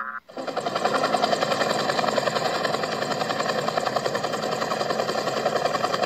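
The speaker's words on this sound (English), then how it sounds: "Alright, so we're gonna use the helicopter." A helicopter in the video game Splatoon 3 starts up with a sudden onset and then runs as a steady, loud rotor chop with a dense mechanical drone for several seconds.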